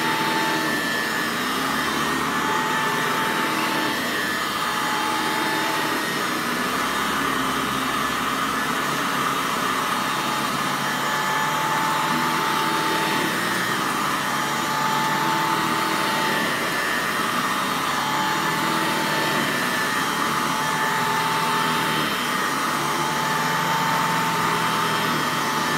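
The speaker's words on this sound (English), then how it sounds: "That's my Hoover Model 300." Hoover Model 300 vacuum cleaner with headlight running continuously, a steady, loud motor whine with a broad airy roar and faint tonal hum that holds unchanged throughout, no voices.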